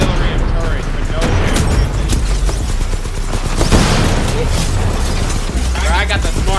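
Rapid smart pistol fire from Titanfall crackles alongside heavy mechanical clatter, booms and other gunfire in a dense, loud, continuous game battle, with a voice talking over it.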